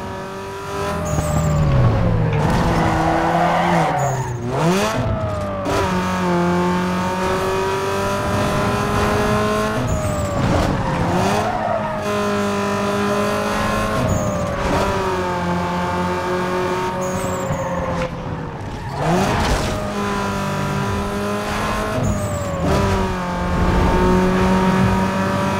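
A race car in Need For Speed: Underground 2 revs hard through sharp corners, engine pitch climbing and dropping with gear shifts, loud and continuous with brief tire squeal, mixed with game music.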